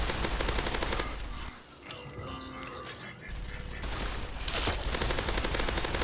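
Automatic gunfire in Fallout 3 Broken Steel fires in dense rapid bursts, loud and close, pausing briefly in the middle before resuming with continued rattling shots.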